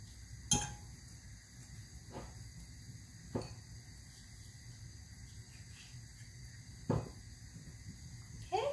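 Fork tines poking into boiled potatoes for dum aloo, producing a few sparse, faint clinks and taps against a plate, spaced seconds apart over a quiet kitchen hum.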